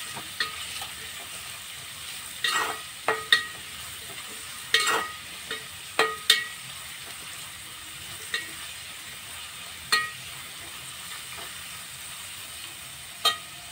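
Chopped onion sautéing in a pan for a spicy mhaklyachi chutney, a soft steady sizzle with scattered sharp clicks and scrapes of stirring, alone and at moderate distance.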